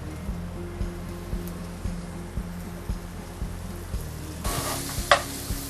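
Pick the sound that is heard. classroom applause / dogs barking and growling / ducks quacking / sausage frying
sausage frying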